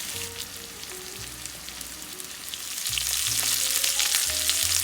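Steak with thyme frying in a pan, a steady close crackling sizzle that swells slightly louder partway through, with no voices.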